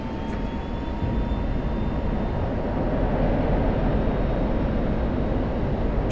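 F-16 jet in the DCS video game rolling down the runway for takeoff, a dense, loud engine roar that rises slightly after the first second and stays steady, with a faint whine above it.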